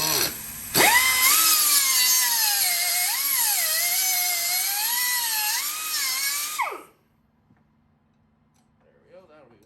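A high-pitched power tool whines while cutting a piece of aluminum clamped in a vise for a building project, its pitch wavering under load for about six seconds before it cuts off, followed by near silence with faint movement.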